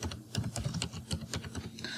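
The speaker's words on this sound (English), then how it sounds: "So I'm just typing my password." Password typed on a computer keyboard, with a close, quiet run of uneven key clicks tapping in a steady but irregular rhythm and no voices.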